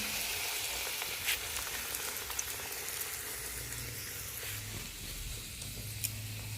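Luchi, puffed flatbread, frying in hot oil, a steady soft sizzle and crackle heard close up and fairly quiet throughout.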